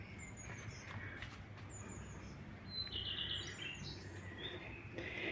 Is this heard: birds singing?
yes